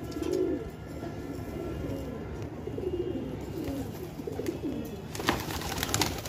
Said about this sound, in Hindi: ये मद्रासी कबूतर है जी